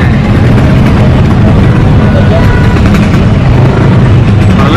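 Late-night traffic jam near a busy Jakarta fair: a steady, loud rumble of idling car and motorbike engines surrounds the listener, with no voices.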